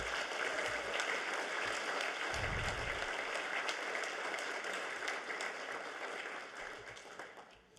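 At an annual meeting, an audience claps for the staff team, producing sustained, even applause that carries on at a moderate level and slowly fades toward the end.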